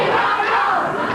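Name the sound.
wrestling crowd hollering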